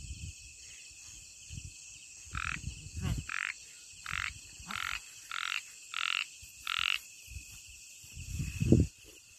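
Small frogs croaking in a forest, a steady series of about eight short, evenly spaced calls close by over a quiet insect background, with a rustle near the end and no voices.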